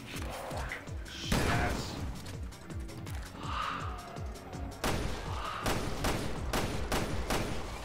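Video game gunfire, rapid bursts of automatic weapon shots with mechanical clatter, continuous throughout and fairly close, with no clear talk.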